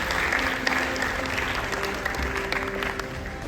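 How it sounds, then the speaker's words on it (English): An audience at a school annual award ceremony gives parents a sustained round of applause, dense clapping from a crowd filling a hall at an even level. "Please have a big round of applause for the parents."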